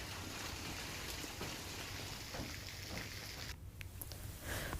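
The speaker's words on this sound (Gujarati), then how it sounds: "સુરત શહેરમાં પણ ધોધમાર વરસાદ આજે શરૂ થયો છે।" Heavy rain pours onto the streets of Surat city in Gujarat, a dense, steady roar of falling water that stays constant throughout with no voices.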